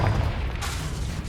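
A Confringo fire spell blasts in Hogwarts Legacy, a loud low boom opening sharply and rumbling on with a brief burst midway.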